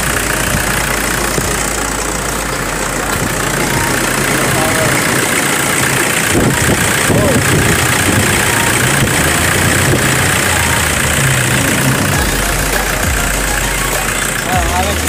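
A Toyota Innova engine idling after a throttle body cleaning, a loud, steady low rumble that runs throughout, with people talking nearby.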